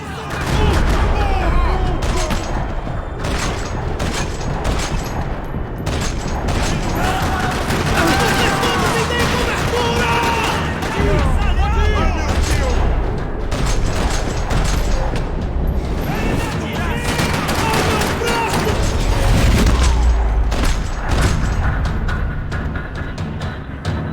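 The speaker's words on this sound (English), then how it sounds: "Another parking lot rattling with gunfire." Dense gunfire rattles through a parking lot in the video game Max Payne 3: rapid, loud bursts and volleys run continuously and close, with voices shouting over the shooting.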